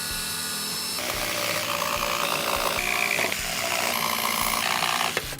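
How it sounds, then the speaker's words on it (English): A power saw cuts through several plywood pieces clamped together, a loud continuous rasping whine that runs steadily for about five seconds with slight changes in pitch before it cuts off at the end. "By clamping your pieces together, you can make all your cuts in half the time"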